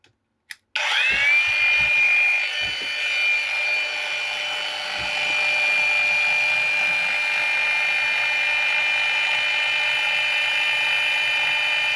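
A Worcraft CAG-S20LiBH-125 cordless 125 mm angle grinder on a fully charged battery switches on after a couple of clicks and spins up to a loud, steady high-pitched whine that holds alone for the rest of the stretch.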